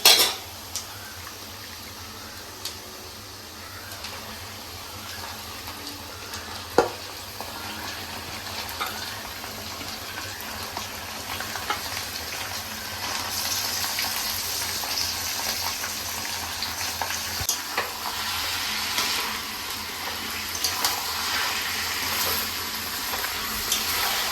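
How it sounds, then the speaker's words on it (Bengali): Onion fries in a pan for mutton curry, giving a soft, steady sizzle with occasional clinks of a utensil against the pan. "এখন পেঁয়াজটা লাল লাল করে ভেজে নেব"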